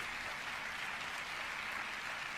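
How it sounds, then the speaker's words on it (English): A talk show studio audience applauds in a steady, even wash of clapping, heard fairly faint and with no voices over it. "Eventually, he stopped long enough for the audience to applaud"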